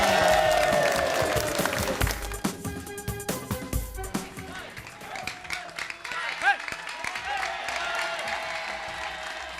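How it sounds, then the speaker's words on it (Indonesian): Studio audience applause on a live TV music show, a sustained bed of clapping and cheering under music and a host's voice, with scattered louder hand claps throughout. "Tepuk tangan yang berapa dahsyat dong"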